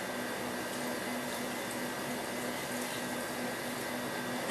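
Roughly two quarts of water pour steadily into a pan of shrimp shells for stock, a continuous loud rushing wash that holds even for the whole stretch with no speech.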